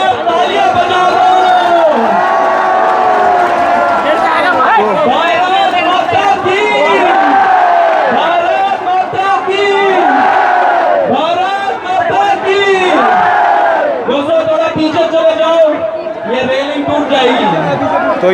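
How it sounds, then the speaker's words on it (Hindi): Large protest crowd at Jantar Mantar cheering and shouting loudly and continuously, with overlapping voices and chanting filling the space close by. "जोरदार तालियां बजा दो।"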